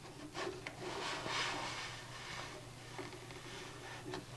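A stud finder scanner sliding across an interior wall, producing soft, faint rubbing and scraping strokes in a quiet room, a few brief louder swipes over a steady low hum.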